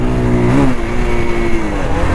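A Bajaj Pulsar 220F motorcycle with a two-valve 220 cc engine accelerating, a loud close engine drone whose pitch rises and then settles into a steady hum.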